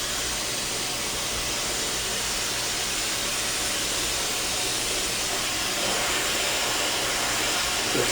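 A hair dryer blow-drying the roots during a smooth blowout, a loud constant close-up airy roar with a steady hum underneath, running unbroken throughout.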